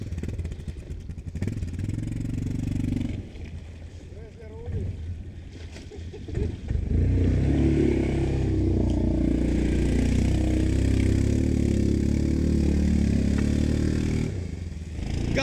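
A Grizzly quad bike engine revs up loud and close, a rough, rising mechanical roar that holds steady for several seconds, with voices talking before it.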